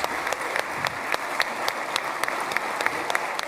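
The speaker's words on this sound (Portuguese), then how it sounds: "Trump foi recebido de pé, sob aplausos intensos dos parlamentares israelenses." Sustained applause from Israeli parliament members in the Knesset greeting Trump as he takes the podium, a dense steady roar of many hands clapping with sharper individual claps popping through, no voices heard.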